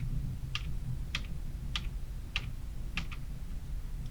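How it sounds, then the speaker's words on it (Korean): A computer keyboard clicks six times at a steady, even pace as the Alt key is held and the right arrow key is pressed, crisp and close over a soft background hum, with no voices. "Alt 키 누른 채로 오른쪽 방향 키 6번 누르고요"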